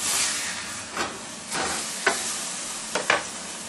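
A hamburger patty frying in a pan right after being flipped, a close, steady hiss of sizzling fat with a few sharper spatters and pops breaking through, no voices.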